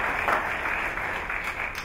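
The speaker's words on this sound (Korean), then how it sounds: "박수 부탁드리겠습니다." Steady audience applause at a 2018 entrance ceremony of a Seoul arts vocational school, a continuous wash of many hands clapping with no talk over it.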